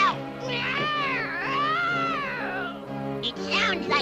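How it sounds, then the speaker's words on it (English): A drawn-out, wavering cat meow rises and falls over several seconds, close and fairly loud, with a second shorter cry near the end. "It sounds like an injured cat."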